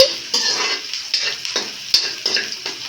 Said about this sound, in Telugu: ఉల్లిగడ్డలు ఒక అలువుకి రంగు మారేంత వరకు వేపుకొని